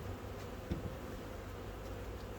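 Honeybees hum in a dense, continuous drone around a hive entrance during a colony transfer, close to the mic, with individual insects briefly buzzing louder as they pass.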